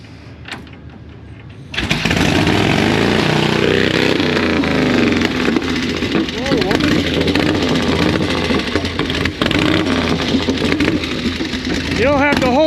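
A Panhead motorcycle with clutch trouble roars to life after a quiet moment and keeps revving loudly and roughly at close range, with voices talking over the engine.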